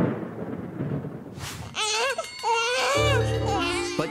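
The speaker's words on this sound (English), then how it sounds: "a crying baby defeats even the mightiest elephant, clocking up to 120 decibels" A rumble fades out, then a baby bursts into loud, close, wailing cries with rising and falling pitch, continuing to the end.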